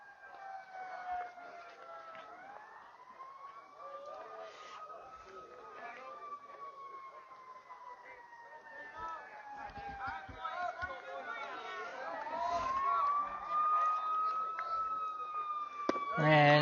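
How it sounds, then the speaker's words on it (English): Ambulance sirens passing on a road beside a 14U youth baseball game, long wailing sweeps rising and falling continuously, moderately distant and growing louder toward the end, with someone commentating over them. "Got some ambulance sirens going past us here on the road."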